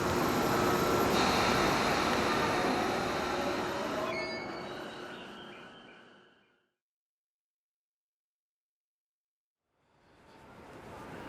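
Train rolling along rails at a Japanese station, loud and close with a broadband rumble and high wheel squeal, fading away over about six seconds into silence before rail noise rises again at the end.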